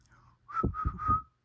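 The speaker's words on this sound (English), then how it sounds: "I think I'm an okay whistler." A person whistles a short tune of three quick rising notes, close and clear against silence.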